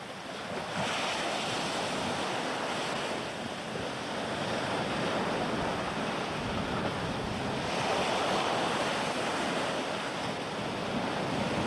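Steady ocean surf rolls and washes continuously onto the shore in Bermuda in 1991, with some wind rumble buffeting the microphone throughout.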